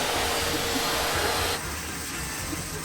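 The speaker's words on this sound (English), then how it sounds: "we're gonna throw these in the blast cabinet and get them all blasted off" Parts being sandblasted in an off-road shop's blast cabinet give a steady, loud rushing hiss of air and abrasive that drops slightly in level halfway through, with no talking.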